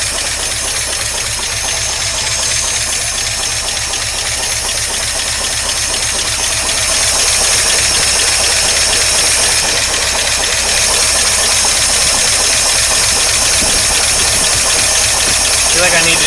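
The engine of a 1953 Oldsmobile Rocket Super 88 barn find idles loudly and steadily up close as it warms up, its rough, even rumble continuing without a break.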